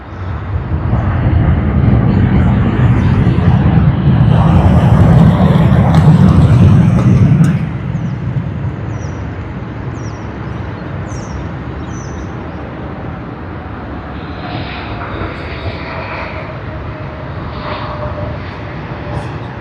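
A Delta airliner in 100-year livery touches down at Sydney Airport, its loud engine rumble heavy for about seven seconds before dropping to a fainter, steady wash of rolling noise, with faint bird chirps nearby.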